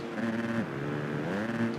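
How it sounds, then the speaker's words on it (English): A motocross bike engine in the MX vs ATV video game revs high, then drops in pitch at a gear change and climbs again, a continuous buzzing whine heard without voices. "Really killed the revs."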